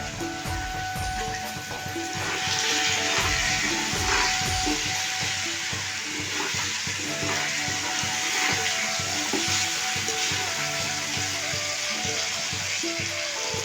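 Green chillies fry in hot oil in a pan, a loud, steady, close sizzle that swells after a few seconds of clattering and keeps crackling evenly throughout.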